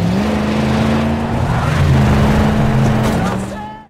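Car engine driven by children trying to run over a couple, a steady loud motor roar that swells and then fades out over a few seconds, with no talk.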